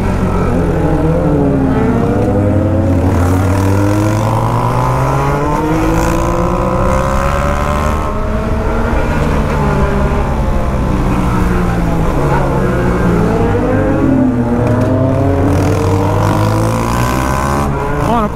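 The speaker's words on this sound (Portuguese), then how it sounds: "Quando tem muita moto junto assim acelerando, o som é mó doideira" Several motorcycle engines rev and accelerate together, loud and close, their pitches rising and falling in overlapping waves throughout.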